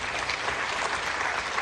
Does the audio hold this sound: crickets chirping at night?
no